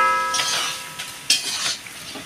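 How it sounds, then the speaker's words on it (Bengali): Mutton and potato curry stirred in a large kadai, a couple of loud scraping sweeps of the spoon over a soft sizzle, close and without voices. "আর মাংস আলু টালু দিয়ে বেশ নাড়া ভালোই হবে"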